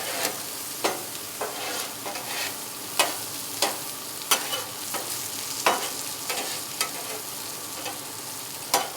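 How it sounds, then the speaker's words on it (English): Walnuts sizzle in butter on a griddle top, a steady frying hiss broken by sharp, regular scrapes and clicks of a spatula stirring them, close and fairly loud with no talking. "So now we want those to get coated in butter."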